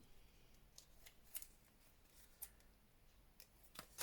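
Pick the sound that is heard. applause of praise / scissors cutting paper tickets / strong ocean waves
scissors cutting paper tickets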